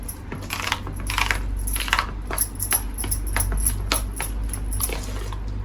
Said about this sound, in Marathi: हे आपण आता परत फेटून घेणार आहे